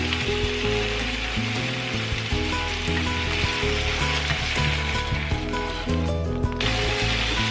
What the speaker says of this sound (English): Add your meat and sear both sides for 2 to 3 minutes.